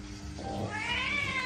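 A cat gives a single drawn-out meow that rises and wavers over about a second, fairly close and clear, with no talking.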